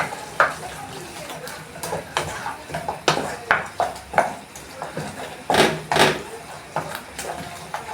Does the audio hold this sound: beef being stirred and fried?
yes